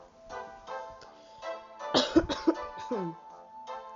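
A person with a cold coughs several times in a quick cluster and clears their throat, over a background of steady tonal music.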